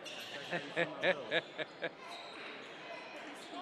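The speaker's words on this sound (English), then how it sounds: "There's an echo in here, too." Basketball game in a school gym, a run of about six rhythmic ball bounces echoing off the hall, followed by a reverberant wash of crowd noise, fairly distant and moderate in level.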